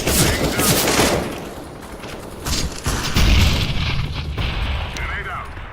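A grenade blast and bursts of automatic gunfire from the video game CS:GO, loud and close, with a rumbling boom partway through and a voice speaking over the fighting.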